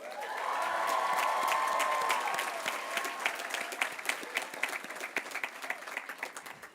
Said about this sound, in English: I ask the class of 2025 to give them a big round of applause.